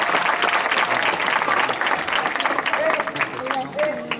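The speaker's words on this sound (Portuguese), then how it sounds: "¡Un aplauso!" A street audience at a clown's performance in Zambujeira do Mar applauds in a dense, lively burst of clapping, with voices and a few calls mixed in as it gradually thins.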